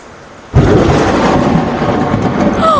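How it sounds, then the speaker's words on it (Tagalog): A sharp crack of thunder bursts in after a brief quiet, then rolls on as a loud, sustained rumble during a storm, with a faint whistle-like tone near the end. "sobrang talim nung kulog"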